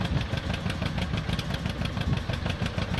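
Old tractor engine in the video game Farming Simulator 19 runs at a steady idle, a loud, continuous low putt-putt with even rhythmic pulses and no talk.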